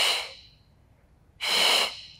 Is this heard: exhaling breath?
yes